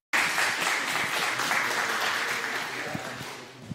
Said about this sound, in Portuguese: e palmas.